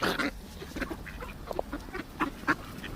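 Ducks quack by a river in short, nasal bursts, several scattered calls close by over a steady outdoor background, with no talk.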